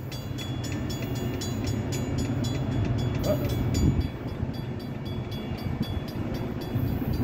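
A Norfolk Southern AC44C6M locomotive, number 4302, leads freight train 27A southbound past a crossing, giving a steady, moderately loud rumble of engine and rolling cars with rhythmic clicking and a brief swell in the middle.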